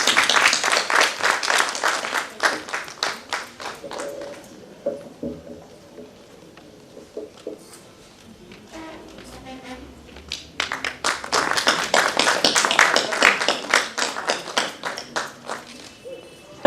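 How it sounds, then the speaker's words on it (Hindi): Loud applause from a crowd at a musical theatre performance in Lucknow fades to a few scattered claps, then swells again into vigorous clapping. "जोरदार तालियां"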